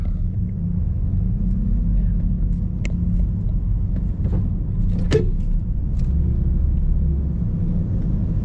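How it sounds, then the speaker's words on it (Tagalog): Heavy afternoon road traffic, with a steady low rumble of cars and engines passing close by and a few sharp clanks and knocks standing out over the continuous drone. "Medyo kumakapal na yung sasakyan ha."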